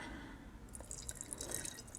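Tea latte poured into a teacup fitted with a strainer, a soft, faint trickle and dripping of liquid that builds slightly, with no talking.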